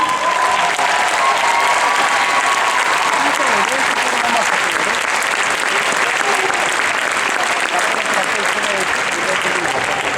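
Sustained, loud audience applause at an adult Latin dance masters final for a Russian dance couple, continuous clapping throughout, with faint voices mixed under the crowd.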